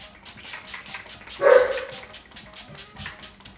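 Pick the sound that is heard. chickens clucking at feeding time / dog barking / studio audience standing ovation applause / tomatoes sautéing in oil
dog barking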